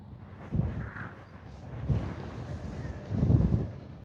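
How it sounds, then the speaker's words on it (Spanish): Low rumbling gusts of wind buffeting the microphone in three strong surges, with quieter blowing between them. "Es increíble el viento que hay."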